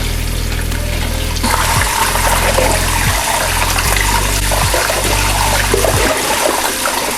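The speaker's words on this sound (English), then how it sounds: "We are going to wash our chicken with some vinegar and water at our end." Tap water pours steadily into a kitchen sink while raw chicken is washed in a vinegar and water rinse, a continuous close splashing with occasional louder gushes and no talk.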